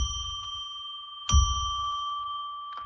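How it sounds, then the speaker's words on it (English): A small bell rung in a radio studio gives clear, bright strikes: the first rings out and decays, a louder second strike follows, and a third begins at the very end, each leaving a sustained pure tone. "I'm going to ring a bell 3 times to declare and establish"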